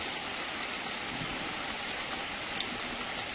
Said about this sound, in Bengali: আজ আবার হঠাৎ বৃষ্টি শুরু হয়ে গিয়েছে।